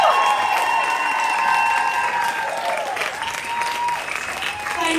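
An evening event audience applauds and cheers its panellists, a dense continuous patter of many hands with raised voices mixed through the room.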